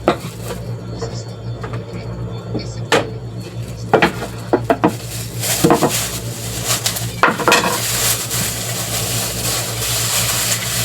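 Chopped onion hits a hot pan and sizzles, a steady hiss broken by several sharp clatters of a utensil stirring against the metal, fairly loud and close with no talk.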